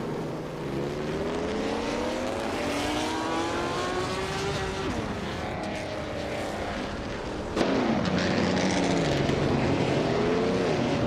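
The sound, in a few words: 1952 Ferrari 375 Indy race car driving in race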